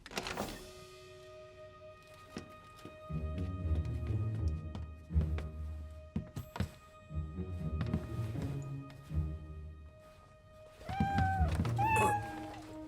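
Cartoon cats meow in an animated Alpine story, with rising, wavering cries over background music and occasional thuds.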